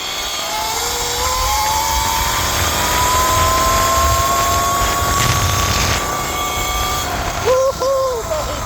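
An Eride Pro SS 3.0 electric bike ripping fast down a long gravel trail gives a steady, loud rushing drone with a rising whine throughout, mixed with wind noise.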